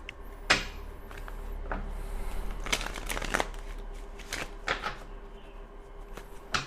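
Tarot cards are shuffled and riffled by hand close up, with soft repeated flutters and sharper snapping bursts of cards striking together, the handling continuing steadily with no talk.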